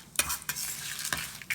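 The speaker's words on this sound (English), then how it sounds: "Never leave the stove, we keep frying." Steady sizzle of dal and peppercorns frying in oil in a pan, broken by a few sharp clinks and stirring scrapes of a utensil.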